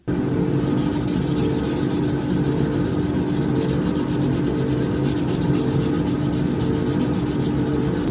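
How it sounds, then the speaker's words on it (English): Steady, rhythmic rasping of sandpaper, up to 320 grit, worked back and forth over wood by hand, close and continuous with no talking. "Quite a bit of hand sanding involved"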